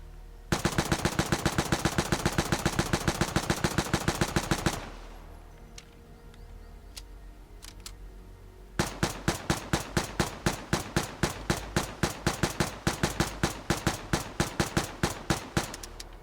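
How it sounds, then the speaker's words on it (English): A Grease Gun submachine gun in the video game Vigor fires a loud, rapid burst of automatic fire, pauses briefly, then fires a long run of quick, evenly spaced single shots. "This is a comparison of the accuracy while shooting auto and then single fire."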